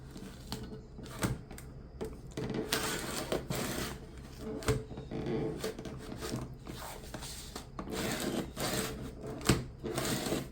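Blade cutting back and forth through plastic school folders clamped down on a cutter, a series of scraping, clicking strokes repeated irregularly at close range.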